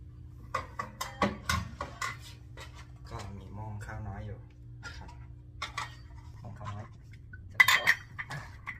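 Metal pot and utensils clank and clink while rice is prepared for cooking, a series of sharp, close knocks and scrapes spread through the clip over a low steady hum, with a louder clatter near the end.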